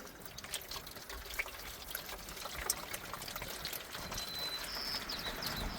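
Engine oil from a 2008 Jeep WK with a 3.0 diesel draining into a pan, a soft continuous trickle and pour heard quietly outdoors, with faint bird chirps in the background.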